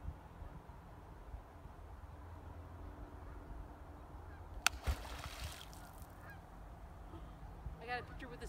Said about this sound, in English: And look, here comes the Canadian geese.